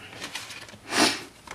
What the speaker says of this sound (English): Excuse the sniffles.